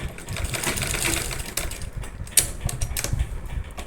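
A sewing machine runs a line of stitching over the elastic joint of a saree belt, giving a quiet, steady mechanical rattle with a few sharper clicks and knocks near the end.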